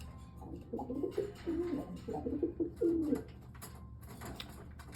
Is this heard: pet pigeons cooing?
yes